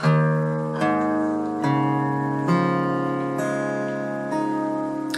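Six guitar open strings plucked one after another at an even pace, each ringing out and overlapping the next, with no talking.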